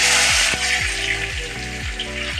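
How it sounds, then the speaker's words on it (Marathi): Onion sizzles loudly as it hits hot oil in a pan for a drumstick dal curry, a dense steady crackle with no talk. "आता कांदा टाकते."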